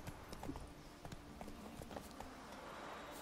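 Horse hooves clip-clopping in The Witcher III, a steady run of soft distinct hoofbeats, faint and close, with a few quiet scattered knocks.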